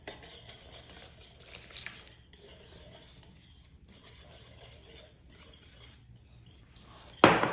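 Flour, breadcrumbs and cornstarch being stirred together with water in a bowl, a steady scraping and clinking of utensil against the container, close and fairly quiet, ending in a sudden louder burst.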